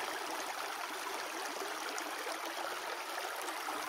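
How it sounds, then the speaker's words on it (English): Icy mountain creek, Bogong Creek, flowing steadily as a close, broadband rush and trickle of water with no voices over it. "Yeah, so this is Bogon Creek."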